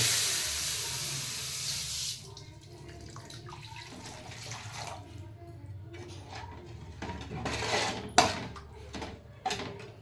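Two glasses of water pour steadily into a pot with ginger for noodles, a rushing hiss, then quieter splashes and a few sharp clinks of kitchenware.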